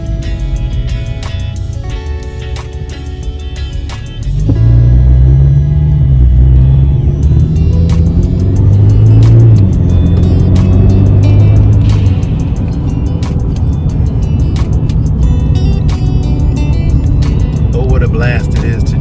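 A 2022 Ford Maverick on lowering springs driving briskly on a 35 mph road with curves, its engine and road rumble rising as it pulls away and holding steady, close and loud under someone talking throughout.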